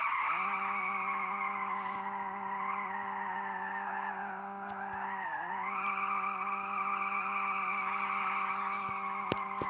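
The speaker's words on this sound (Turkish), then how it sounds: "Oho, araba hemen drift atıyor ki." Continuous tire squeal from a car drifting in a car crash simulation game, a sustained screeching whine layered over a steady engine drone, dipping briefly mid-way before rising again, loud and unbroken with no talking.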